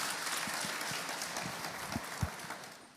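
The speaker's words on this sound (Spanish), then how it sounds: "Démosle un fuerte aplauso al Señor." A church congregation at a Baptist worship service applauds together, giving a moderate, sustained wash of many hands clapping with a few louder individual claps standing out toward the end.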